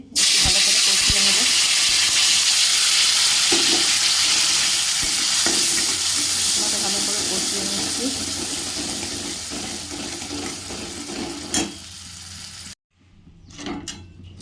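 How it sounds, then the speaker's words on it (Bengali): A spice paste goes into hot oil with whole cumin and bay leaf in a kadai and sizzles loudly and steadily up close. The frying eases off gradually and cuts out briefly near the end before softer sounds return. "কড়াইয়ে তেল দিয়ে দিয়েছি এতে হচ্ছে গোটা জিরে আর তেজপাতা ফোড়ন দিয়ে দিয়েছি এরপরে বেটে রাখা মশলাটা দিয়ে দিচ্ছি"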